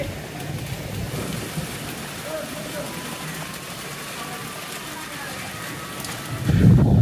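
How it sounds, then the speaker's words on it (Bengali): Light rain and gusty wind rush steadily past while riding a motorcycle slowly, a continuous broadband hiss with a faint engine hum, a louder burst of buffeting at the end. "হালকা বৃষ্টির মধ্যে আস্তে আস্তে চালিয়ে যাইতেছি মোটরসাইকেল"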